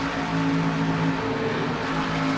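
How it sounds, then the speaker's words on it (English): Race car engine at Daytona at night in a racing game, a continuous loud droning roar with steady harmonic tone as the driver eases off the throttle. "you heard Shelton at the back off the throttle, just a slight big off the fourth turn"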